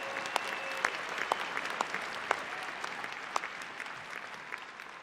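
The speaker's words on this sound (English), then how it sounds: "give yourselves a round of applause" An audience at a conference session applauds in a large hall, a steady moderate wash of clapping with a few sharper individual claps standing out near the front.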